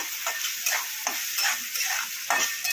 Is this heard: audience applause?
no